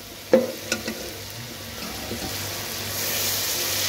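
Potatoes and carrots get stir-fried in a pan for chicken Chinese rice: a few sharp utensil knocks and scrapes at the start, then a steady sizzle that grows slightly louder toward the end, with no talking.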